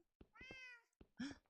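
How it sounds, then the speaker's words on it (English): Cat meowing in Minecraft Java 1.14.2 survival, two clear, close meows, the first long and drawn out, the second shorter and rising. "Is that a cat?"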